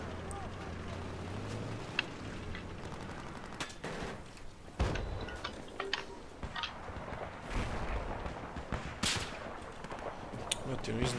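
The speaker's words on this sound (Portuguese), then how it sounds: "tem um sniper atirando em mim" Sniper rifle shots and other gunfire in Battlefield 4, scattered sharp cracks and bangs over a busy game soundscape, with players talking throughout.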